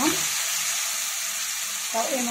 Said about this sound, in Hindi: अब देखियो ई प्याज भुजा रह गए